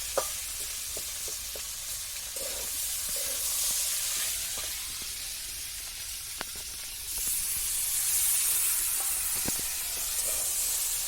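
Spiny gourd (kankrol) curry cooking with chili paste, cumin, sesame paste and coriander, a soft, steady sizzle and hiss with occasional stirring clicks, the frying swelling louder near the end, no talk.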